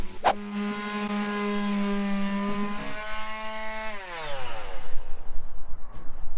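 A power sander's motor whines steadily at a constant pitch while sanding a wooden campervan cooker cabinet, then spins down, its tone dropping as it slows to a stop.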